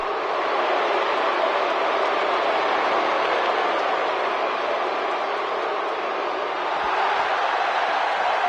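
Arena crowd in the WWE 2K18 wrestling game, a steady, loud wash of cheering and roaring noise that holds at an even level throughout.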